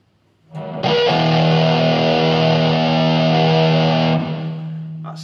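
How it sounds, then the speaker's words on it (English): Electric guitar played through a Vox VT40X amp on a nasty, mean distortion setting: a single loud, fuzzy chord is struck and held for several seconds, then fades as it is released. "A bit of a nasty mean distortion."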